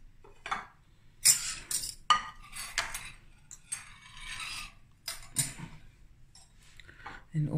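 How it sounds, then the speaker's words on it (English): Samp and bean soup is served from a pot with scattered clinks and scrapes of a spoon against cookware and dishes, irregular and close, with a quiet voice now and then. "I'm gonna dish up now."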